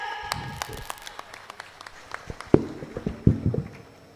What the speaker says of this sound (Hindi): खुशबू राठौड़ के लिए जोरदार तालियां।